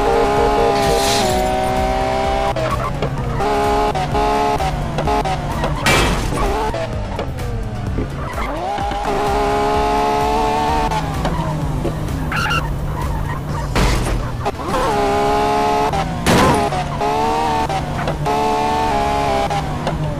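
A police car in an Iranian GTA-style mobile game, with repeated engine revs, tire squeals and skids that rise and fall in busy bursts, loud and continuous.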